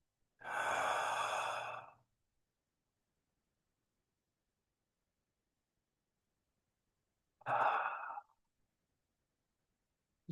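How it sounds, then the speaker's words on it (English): Two slow, deep breaths taken during a belly-breathing exercise, each an airy inhale-exhale rush lasting about a second and a half, close and clear with long silence between them. "So when I breathe nice and deep"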